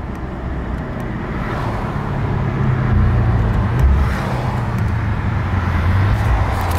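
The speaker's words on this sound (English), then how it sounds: "Way too much wheel spin in this car" Mercedes-AMG E63s accelerating hard on a highway at night, its engine rising in a deep building roar with tyre noise from wheel spin, loud and close, no talk.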